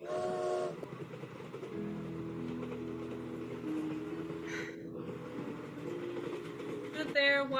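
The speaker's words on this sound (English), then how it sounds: "Stood there watching the red light of his train disappear." A train pulls out of a station, a steady low rumble with sustained whistle-like tones and faint rolling clatter, moderately distant, with a short bright sound near the start and another near the end.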